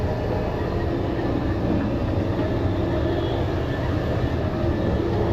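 Steady rumble of a VIA Rail Corridor passenger train riding along the track in Canada, a continuous low-heavy roar with rail hiss, heard from inside the car and unbroken throughout.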